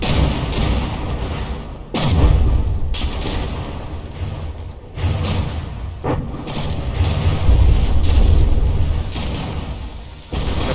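Battleship shells firing and striking in the naval combat game From the Depths, a string of heavy booms and blasts at irregular intervals, some sharp and close, over a constant rumbling background.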